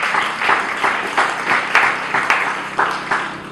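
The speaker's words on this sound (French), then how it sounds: "Acclamons plus fort pour le Seigneur Jésus-Christ." A church congregation applauds for Jesus Christ with sustained, dense clapping from many hands in a reverberant hall, steady and lively throughout with a few sharper accents.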